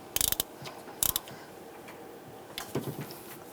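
A ratchet snugs down the EGR valve bolts on a 1999-2006 Chevrolet Silverado 1500: two quick bursts of close, sharp clicking, then softer, scattered ratcheting clicks.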